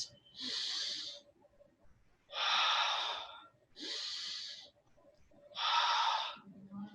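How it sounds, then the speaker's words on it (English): Deep breathing exercise: four loud, close breaths alternating between long inhales and exhales through the mouth, each lasting about a second, separated by short quiet gaps. "breathe deep. And exhale through mouth. Breathe deep. Do 5 times."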